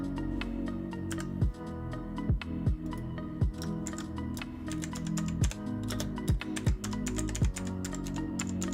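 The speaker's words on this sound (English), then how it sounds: "I'm trying not to do too much typing, because I will introduce a typo that will get through" Steady typing on a computer keyboard, rapid irregular key clicks close to the microphone with a few louder keystrokes, played over a low continuous hum and with no speech.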